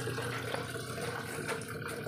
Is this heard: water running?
yes